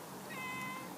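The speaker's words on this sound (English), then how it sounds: "let's show you my cat." Spotty, a pet cat, gives one drawn-out meow close by, rising and holding briefly over a low background hum.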